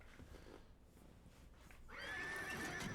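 A horse whinnies clearly over a faint, steady background hum, the neigh rising and trembling for about a second, in the video game Parasite Eve.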